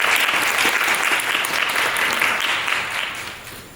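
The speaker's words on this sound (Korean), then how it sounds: "모두 큰 박수 주시길 바랍니다." An audience at a spring presentation event claps steadily and enthusiastically for a few seconds, the applause thinning and fading toward the end.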